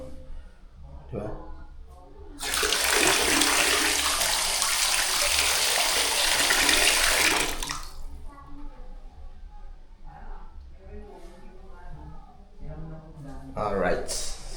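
Water gushes steadily from a 3-in-1 tap in a home bathroom for about five seconds, loud and close, then cuts off; people talk before and after the flow.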